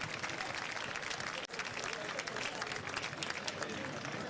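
Dense, sustained clapping from a large audience at the FIBA 3x3 basketball Orléans Challenger 2024 fills the whole stretch, a steady wash of applause with a brief dip partway through.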